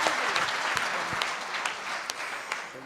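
Audience applause at a Hindi comedy poetry show: a steady, dense wash of many hands clapping, with a few sharper individual claps standing out, filling the whole stretch at moderate loudness.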